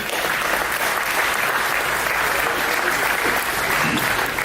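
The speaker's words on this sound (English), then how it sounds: "Round of applause for Fran, please." Steady, dense applause from an event audience welcoming a speaker to the stage, a loud continuous patter of many hands held at an even level throughout with no talk over it.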